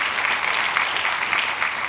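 A church congregation claps enthusiastically during a sermon, giving a brief, dense burst of applause that stays loud and even throughout.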